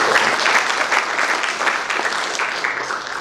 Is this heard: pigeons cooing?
no